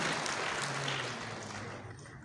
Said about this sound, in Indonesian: Hadirin, mari berikan tepuk tangan untuk Majelis Ulama Indonesia.